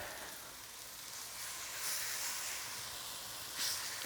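Marinated chicken in a wet, liquidy marinade frying in a pan, giving a steady, close hiss and sizzle that swells slightly a couple of times, with no talking.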